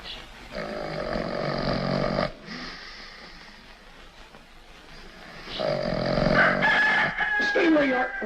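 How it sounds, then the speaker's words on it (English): Rooster crowing twice, long loud calls with a pause between, at ranch-like outdoor setting, with a faint other sound rising near the end. "Relax. It's only a rooster."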